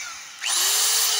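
DeWalt D25134K rotary hammer switched to drill-only mode, spinning up sharply and then holding a steady, loud high-pitched whine with no hammering.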